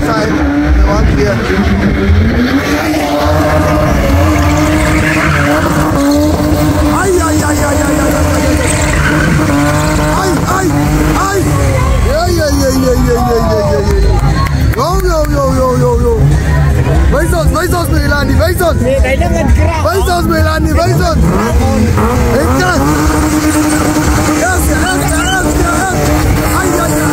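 A car spins with skidding, squealing tyres at a street spinning event in Swakopmund, Namibia, its engine loud and continuous beneath a crowd's noisy chatter and cheering throughout.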